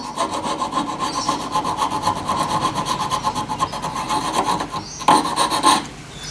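Steady hand-filing rasp over a machined metal casting as its burrs are cleaned off, close and continuous with rhythmic strokes that grow briefly louder and scrapier near the end.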